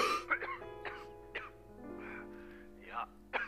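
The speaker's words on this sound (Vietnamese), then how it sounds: "sao mà anh lại ho dữ dội vậy?" A man in a wartime martial arts action drama coughs and clears his throat heavily, in several rough bursts spread over a few seconds. The sound is fairly quiet and close, with low background tones underneath.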